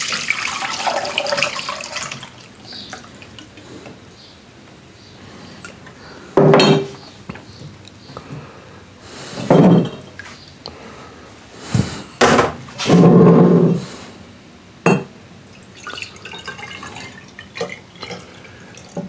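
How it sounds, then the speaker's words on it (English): Fat-washed butter pecan moonshine strained through a sieve, with soft dripping and liquid splashing, punctuated by several louder bursts of pouring and clinks of kitchenware, close and with no talk. "Strain it out."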